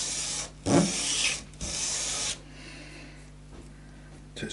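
Short bursts of rasping abrasion, like sandpaper rubbed against wood, come in two or three strokes separated by brief pauses while sanding a part on a 1997 Gibson Les Paul guitar, then fade to a quieter hiss.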